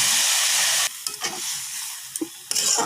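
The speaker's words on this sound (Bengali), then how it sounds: "জল দিয়ে নেড়ে চেড়ে নিলাম।" Ground spices with ginger, cumin, garlic and chili powder stirred with water in a pan for a Bengali fish curry: a loud hiss cuts off, quieter scraping and stirring knocks follow, then the hiss surges again near the end.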